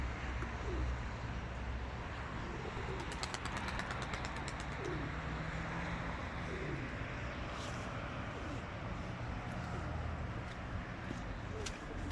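Soft, low pigeon coos repeat at intervals over a faint, steady background of wind and distant traffic on a snowy winter day.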